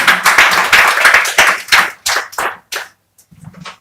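Meeting audience claps for a speaker at a women's economic empowerment consultation, dense close clapping that thins into scattered, separate claps before fading, with a brief murmur at the end.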